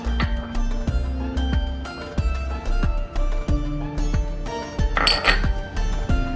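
A fish marinade of chili, lemon juice and ginger garlic paste being mixed in a bowl for king fish fry, a run of close, rhythmic clinks and taps of utensil on dish with a brighter clatter near the end.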